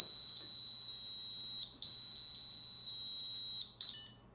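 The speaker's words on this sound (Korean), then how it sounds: "지금 여기 사이렌은 지금 울리지 않도록 해놨기 때문에 지금 안 울리고 부저음이 울리는데" A fire alarm control panel buzzer sounds a loud, steady high beep that breaks off briefly twice and then stops at the end.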